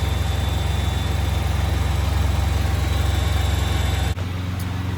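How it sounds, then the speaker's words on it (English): A 2022 Ford 3.5 EcoBoost engine with upgraded turbos idles steadily and loudly up close, a constant low rumble with a mechanical whine, dropping abruptly in level near the end. "All right, so it's running. We're gonna let it idle for a couple minutes"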